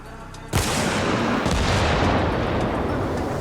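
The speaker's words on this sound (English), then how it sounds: "You can see that even after 3 separate shots from the Law, the Typhoon is still standing." Rocket launcher fire in Battlefield, LAW shots against a Typhoon vehicle, a loud sudden blast that gives way to a sustained roaring wash of explosion and gunfire noise, dense and continuous.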